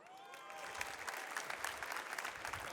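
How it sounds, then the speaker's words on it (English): A conference audience at a green technology festival claps steadily, a dense spread of many hands heard at a distance and fairly faint, with no voices over it. "I see some claps, I like that"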